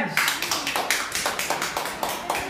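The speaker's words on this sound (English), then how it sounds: "Clap your hands." Steady rhythmic hand claps, about four per second, from a group of nursery children, with singing of "If You're Happy and You Know It" underneath.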